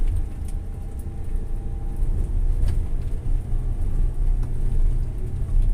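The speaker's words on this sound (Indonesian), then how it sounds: "Ini suara mobilnya dah agak lain," Car engine pulling up a hill in first gear, a steady low droning rumble heard from inside the vehicle with no talking.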